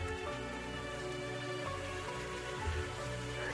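Simulated rainfall in a coded Touch Grass simulator game: a soft, continuous hiss of drops, even and unbroken, fairly faint, with no voices over it.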